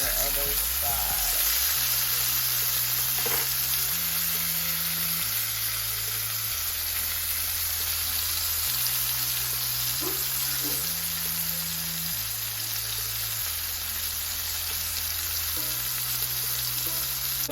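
Gardein plant-based patties fry in a pan with a steady, close, hissing sizzle that runs continuously, with occasional faint clinks, while a low background tune plays softly underneath.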